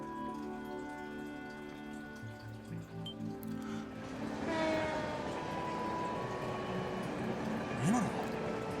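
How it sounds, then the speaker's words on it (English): A passing train in the video game Trails from Zero at night, a rising rumble and rattle with a long tonal horn-like drone and a brief squeal, heard under background music. "Is that the last train bound for Calvard?"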